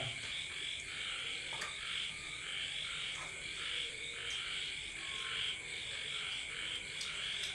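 Frogs croak outdoors at night near a family's open-air dinner, a dense chorus of rhythmic, repeated calls pulsing steadily at moderate distance with faint insects around them.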